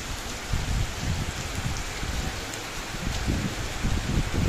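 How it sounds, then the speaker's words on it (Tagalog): Heavy rain pours steadily and close by, a dense continuous wash of drops hitting surfaces, with gusty rustling swells and no voices. "Lakas ng ulan."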